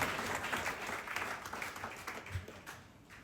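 A church congregation applauds the Lord, steady sustained clapping from a crowd that fades slightly toward the end.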